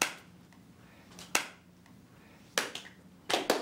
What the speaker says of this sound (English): Now I'm getting the slow clap from Blake.